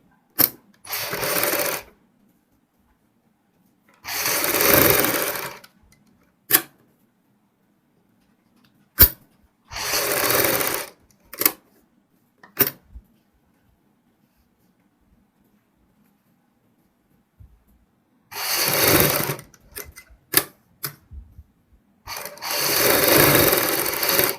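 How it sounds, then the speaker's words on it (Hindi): A sewing machine stitches the edge of a neck design in short, loud whirring bursts separated by silent pauses and a few sharp clicks. "यहाँ पे हम किनारे की सिलाई लगा लेंगे आगे वाली।"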